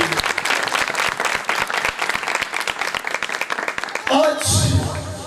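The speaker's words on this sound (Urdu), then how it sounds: "ہم تالیاں بجا سکتے ہیں بھائی بہن" A church congregation claps after a scripture reading, a sustained burst of applause with scattered sharp claps that fades, followed by a louder swell of crowd sound near the end.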